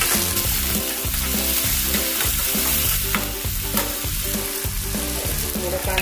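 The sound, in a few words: chopped green chilli added to frying pan and mixed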